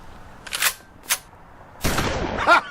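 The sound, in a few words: gun loading and firing sound effect ringtone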